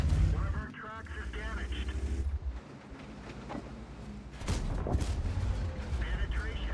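Tank cannons fire in World of Tanks during a heavy-tank defence. Booming shots and rumbling battle noise sit beneath continuous spoken commentary.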